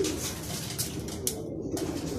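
A racing pigeon coos softly and repeatedly at close range, a low steady murmur under faint background hiss, arriving back at the loft after a Burgos lap race.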